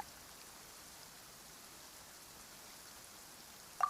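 Rain falls in the Fontaine region of the video game Genshin Impact as a faint, even hiss that holds steady throughout, ending with a brief soft click.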